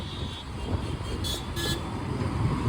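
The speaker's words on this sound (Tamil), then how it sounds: "அந்த மாதிரி ஒரு டிராஃபிக் இருக்குது பெங்களூரில்" Bangalore road traffic rumbles on with a continuous wash of engines, broken by two short car horn toots in quick succession.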